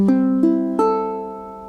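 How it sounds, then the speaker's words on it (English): Ukulele strung with a low G plays three plucked notes, each ringing out clearly and decaying slowly, close and alone. "so that's the sound of this particular ukulele."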